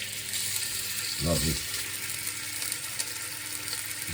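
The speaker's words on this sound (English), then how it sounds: "Get a nice sizzle on, hopefully." Continuous sizzling and crackling from a hot pan while cooking chicken balti, with a brief spoken word over it midway.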